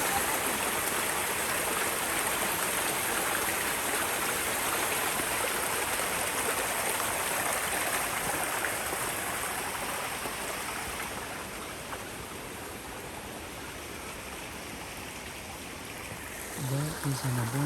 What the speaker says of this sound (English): The spring of waters.